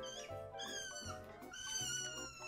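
Cartoonish cat meows from a video game, several short mewing calls repeating in quick succession over a steady low musical hum, fairly close and moderately loud.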